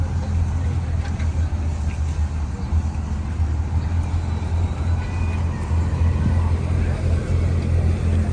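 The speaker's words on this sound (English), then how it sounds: "Here you can take the dumper trucks around a track. They go very fast" Dumper trucks at the Diggerland Kent theme park drive around a track, a loud, constant low engine rumble with a dense noisy wash above it.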